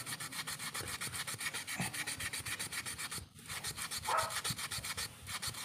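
Steady back-and-forth rasping of sandpaper rubbing against an electric fan shaft, cleaning off blackened residue, continuous and close, with a brief pause midway.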